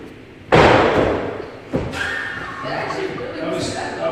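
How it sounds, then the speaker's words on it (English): A heavy thud from someone landing a jump strikes sharply, followed by a second softer impact a moment later, with voices talking around the impacts. "You heard that thud, you know what I mean?"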